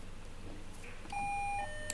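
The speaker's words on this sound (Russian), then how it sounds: "нам звонят в домофон." An apartment intercom buzzer sounds one steady electronic tone lasting about half a second, followed by faint higher beeps, over a low room hum with no speech.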